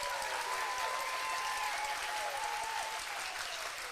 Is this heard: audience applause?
yes